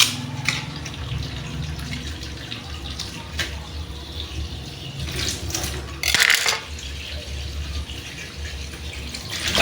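Tap water running while pandan leaves are washed at a sink, a steady wash of flowing water with splashing bursts and handling clatter, close by and without talk.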